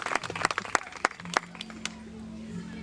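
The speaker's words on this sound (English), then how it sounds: "Everybody, a round of applause." A small crowd at a renaissance faire blacksmith demonstration gives scattered, uneven claps that thin out and stop after a couple of seconds, leaving a low steady hum.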